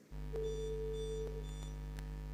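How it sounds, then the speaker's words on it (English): A quiz competition buzzer being tested before a school quarterfinal sounds as one steady electronic tone, held for about two seconds, clear and alone. "We would want you to test your buzzers so that we know which sound goes for which school"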